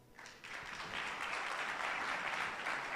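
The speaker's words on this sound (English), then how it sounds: "Please give her a round of applause." Audience applause at a startup demo day event in Riyadh, a steady dense wash of clapping that swells quickly after a brief start and holds loud and sustained to the end, with no talk over it.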